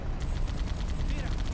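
Sustained automatic gunfire and firefight noise from Halo: Combat Evolved, with weapons aimed at an enemy dropship, played through the Xemu emulator; steady rattling shots fill the moment, mixed moderately loud under a busy game soundscape.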